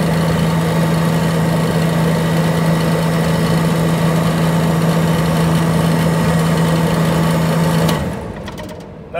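An air conditioning compressor runs as the system pumps down, holding a steady, loud mechanical hum for about eight seconds before it cuts out and fades.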